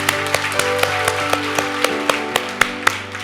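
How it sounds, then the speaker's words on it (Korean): A church congregation at a Sunday service claps in a steady, even rhythm of sharp beats over sustained musical tones, moderately loud and without talk. "우리 하나님께 감사의 박수를 드리겠습니다."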